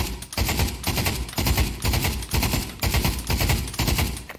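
Firearm fired down range in the VR shooter Pavlov, loud close bursts of rapid automatic shots in quick, repeated groups with brief gaps between them, no voices.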